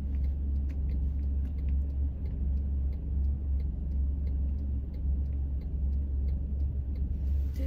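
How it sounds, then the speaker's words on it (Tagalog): Heavy road traffic with cars idling and creeping along a congested street, making a steady, dense low engine rumble that stays loud throughout, with no talking. "pero ang haba ng traffic."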